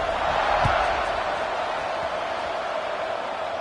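A packed stadium crowd roars at a night college football game, Texas Tech at Arizona State, a dense sustained wall of cheering that stays loud throughout with a brief sharp thump near the start.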